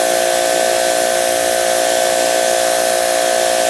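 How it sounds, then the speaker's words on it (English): Electric pressure washer blasting a dirty driveway, a loud continuous high hiss of spray with a steady whining motor tone, close and unbroken throughout. "That is what a pressure washer does."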